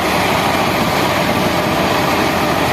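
A Fiat 640 85 hp tractor engine runs with a 4-furrow thresher during a wheat harvest, producing a loud, dense, steady roar close by with no pauses.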